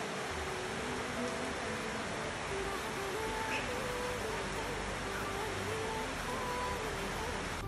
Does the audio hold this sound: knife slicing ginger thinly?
no